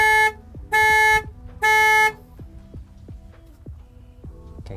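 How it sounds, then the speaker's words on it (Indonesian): A compact SUV's horn honks three times in a steady pattern when triggered by the remote car-finder, loud and close, followed by a quieter rhythmic ticking as the hazard lights flash. "kita bisa nyalakan klakson sekaligus hazardnya"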